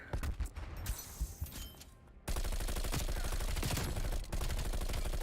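Rapid SMG gunfire from the video game Call of Duty Black Ops Cold War, a dense, sustained burst of shots loud and close, following a quieter stretch of game noise.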